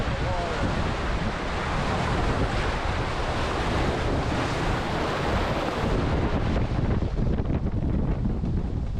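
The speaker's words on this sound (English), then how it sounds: "And there's a good surf you can hear." Loud ocean surf and rushing wind on a sailboat offshore between Brazil and Uruguay, a continuous broadband roar of waves against the hull with heavy wind buffeting the microphone, easing slightly toward the end.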